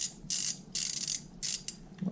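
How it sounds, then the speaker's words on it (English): A small wrench tightens a threadlocked part on a jet ski, making three short bursts of close, crisp ratcheting clicks separated by brief pauses. "little wrench"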